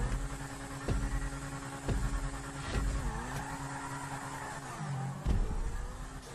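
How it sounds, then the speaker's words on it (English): Grotti Cheetah supercar from GTA, fully upgraded, revving and accelerating on a test track with loud engine drone, rising and falling pitch, gear shifts and brief tire squeal during a drifting turn. "Let's hear the sound of that beautiful engine."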